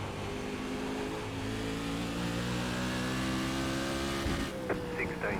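A race car engine drones loudly and steadily in iRacing's Silver Crown Championship at Nashville Fairgrounds Speedway, its pitch wavering as the throttle is worked, with other cars roaring close in a tight pack.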